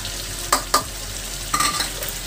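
Dahi chicken sizzles in a pan with ground coriander and cumin, a steady close frying hiss broken by a few sharp scrapes of stirring, no voices over it.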